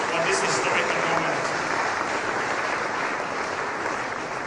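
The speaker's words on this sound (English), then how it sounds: "she deserves another round of applause for this historical moment" A large audience at the launch of Ghana's Memory of the World Register applauds in a dense, sustained burst that stays loud and even before fading slightly toward the end.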